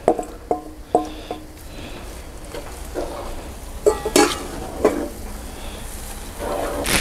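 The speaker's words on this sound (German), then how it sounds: "Der Bacon duftet schon richtig gut. Und jetzt kommen die Zwiebeln hinzu." Bacon and onions fry in a cast-iron Dutch oven: sharp clanks and scrapes of a utensil against the pot ring out over a low, steady sizzle, with a few louder stirring bursts later on.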